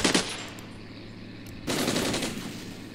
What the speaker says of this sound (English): it looks like one of our tanks has spotted him. He's stopping to commence firing.